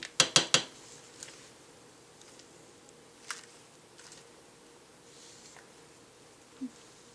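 Spatula scraping and clinking in a container of hot-process chocolate milk soap batter, with a quick cluster of sharp knocks at the start followed by a few sparse, faint taps against quiet room tone.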